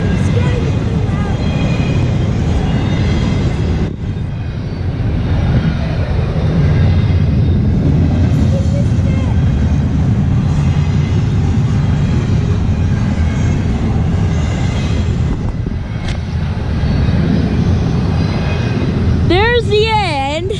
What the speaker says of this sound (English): Well, there's the end of this very long train.